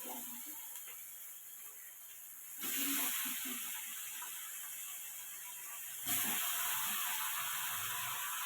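Raw chicken pieces hit hot oil in a pan for a Tamil-style chicken gravy, setting off a loud, steady hiss that jumps up sharply twice as more meat goes in, with no talk over it.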